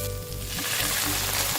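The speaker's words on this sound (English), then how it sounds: "I'm now going to fry these beans until they are done" Green beans fry in a pan with a dense, steady sizzle, close and continuous throughout, over a low rumble.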